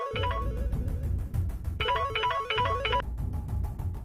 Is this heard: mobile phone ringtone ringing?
yes